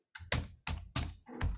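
A few crisp keystrokes on a computer keyboard, four or five distinct taps in an uneven quick rhythm, close up and alone.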